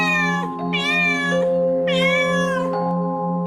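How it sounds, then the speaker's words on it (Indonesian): A black cat gives two soft, drawn-out meows close by, with a brief pause between them, over a steady sustained tonal background. "saat melihat anak itu, kucing langsung mendekat dan mengeong pelan"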